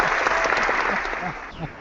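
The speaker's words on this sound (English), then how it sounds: "if you guys could applaud, please, like you do normally." Studio audience applause on a beer review show, a dense burst of many hands clapping that swells briefly then fades, with a few voices mixed in.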